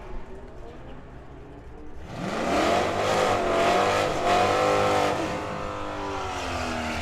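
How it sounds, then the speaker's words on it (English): A BMW convertible drag races down the strip against another car, its engine rising from quiet into a loud, sustained roar with shifting revs and harmonic sweeps that holds steady to the end. "Terlecki trying to close in on Doc Dawkins with that convertible"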